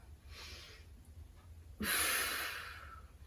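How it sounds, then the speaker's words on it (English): Deep breaths during a Pilates core exercise: one soft inhale, a pause, then a stronger, longer exhale close to the microphone. "Inhale and exhale."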